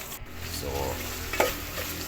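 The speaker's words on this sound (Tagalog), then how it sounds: "Akong gigisa guys." Food stirred and sautéing in a frying pan, a steady close sizzle with scraping stir strokes and a brief clank near the middle, no talk.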